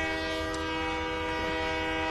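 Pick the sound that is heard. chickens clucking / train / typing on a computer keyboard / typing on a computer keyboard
train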